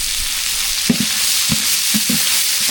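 Onions with green chillies and salt sautéing in a pan for sambar rice, a loud, close, dense sizzle with a few soft stirring knocks scattered through it.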